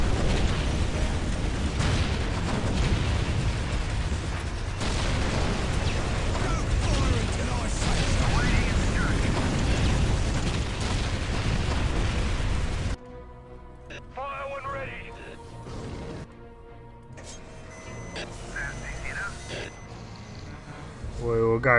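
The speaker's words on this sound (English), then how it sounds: "Some plasma cannon, I think, on this one." Explosions in Dawn of War with the Ultimate Apocalypse mod, on a Tyranid infestation map, rumble loud and dense for a long stretch before giving way to quieter sporadic booms and battle clatter.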